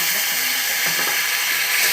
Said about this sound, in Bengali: একটু সামান্য পরিমাণে জল দিয়ে দিই